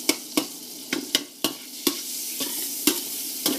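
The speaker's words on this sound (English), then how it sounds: "Give that a little swish around to melt our butter." Butter melting with cracked pepper and salt in a hot pan, swirled around before garlic and crayfish go in: a steady sizzle broken by about ten sharp scraping clicks of the pan, close and clear with no talking.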